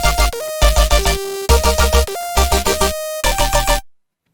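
Dense electronic Dariacore drop with a bright synth counter-melody patch leaping between pitches over thumping kicks and chopped layers, loud and busy, stopping abruptly into silence near the end.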